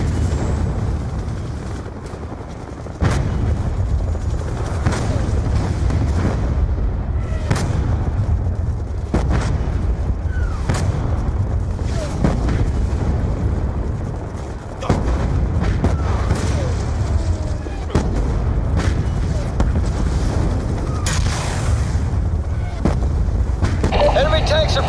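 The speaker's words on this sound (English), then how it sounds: "Enemy tanks are firing on the base!" Repeated heavy booms of enemy tanks shelling a base in a Call of Duty Black Ops 2 battle, irregular blasts over a constant roar of combat, with shouted voices in between.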